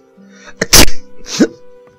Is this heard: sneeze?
yes